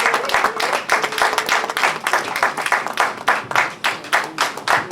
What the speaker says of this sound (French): nous pouvons s'élever en acclamant, en applaudissant